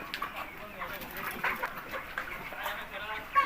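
Chickens on a farm in Sape village, Mahad taluka, cluck and call intermittently at moderate distance while a person talks over them.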